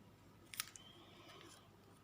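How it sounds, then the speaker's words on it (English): Scissors snipping a paper butterfly wing for a junk journal embellishment: a few quick, faint crisp snips clustered together, then quiet rustle. "Let's cut this butterfly in half."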